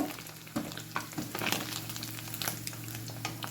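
Sardines (bhutayi) frying in coconut oil, giving a steady close sizzle with crackling pops and a few sharper spits throughout.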